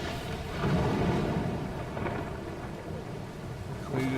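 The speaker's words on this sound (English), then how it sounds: "Let us wait for the rain to stop" A thunderstorm rumbles over steady rain in Lord of the Rings Online on the Shield Isles, a deep, continuous wash of rainfall with low rolling thunder swelling and fading.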